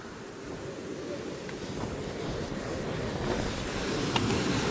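Water at Gaganachukki waterfall near Shivanasamudra roars as a steady, broad, dense rush, continuous and loud throughout, with no talk over it.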